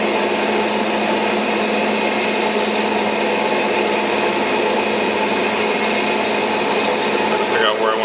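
A glass cutting wheel engraves straight lines into crystal, giving a steady, continuous high-pitched grinding whine like a small motor, held evenly throughout at close range.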